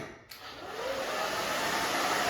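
A hair dryer blows steadily on a short pixie cut, switching on after a brief quiet start and holding a loud, even whoosh throughout.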